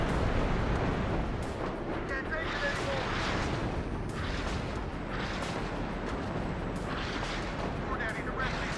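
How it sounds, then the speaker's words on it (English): Heavy artillery barrage in the Cold War strategy game WARNO, continuous rumbling booms and overlapping blasts at a steady dense pace throughout, moderately distant and unbroken. "It's artillery,"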